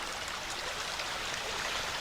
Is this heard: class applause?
no